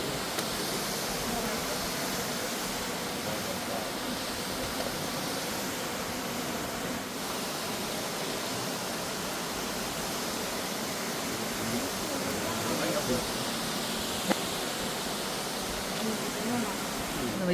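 Trümmelbach Falls in Lauterbrunnen thunders inside the mountain, a deep, steady, enveloping roar of cascading water that fills the space without pause, heard up close for over seventeen seconds.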